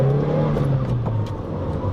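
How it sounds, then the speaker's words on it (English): A Toyota Starlet car accelerating, its engine note droning loud and close from inside the cabin, pitch sliding as it pulls away, alone without talk. "There's accelerations for the vlog."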